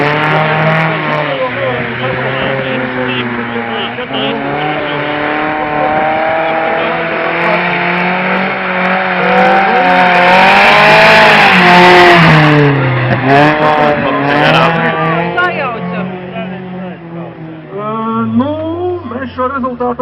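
A rally car at the Ļovāni 2014 event runs at full throttle, its engine climbing and dropping through hard revs as the tires skid. The sound is loud and close, peaking in a harsh burst midway.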